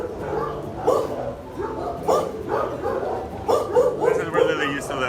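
A rescue dog gives soft, repeated yips and whimpering barks close by, a steady rhythm of short calls over a murmuring background.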